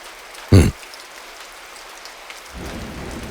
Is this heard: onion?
no